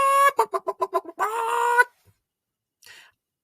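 Chickens cluck in a Teletubbies episode about feeding them: a quick run of six or seven bright, tonal clucks, then one drawn-out squawk, a short silence and a faint, brief call.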